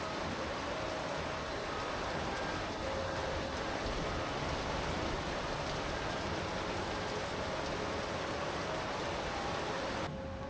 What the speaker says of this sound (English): the sky turned a heavy grey and a tropical downpour swept across the coast